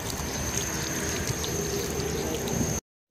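Hot water runs steadily from a sink tap in a restaurant washroom, a continuous close splashing hiss that cuts off abruptly near the end.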